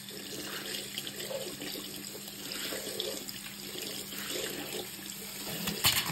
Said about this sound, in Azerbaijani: Suyu açıram və sponju yaxşıca yuyuram.